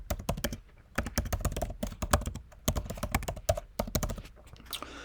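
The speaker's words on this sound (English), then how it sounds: "So I'm going to type in mine." Rapid keystrokes on a computer keyboard as a domain name is entered, a dense, irregular burst of close clicks and taps continuing for about five seconds with no talking.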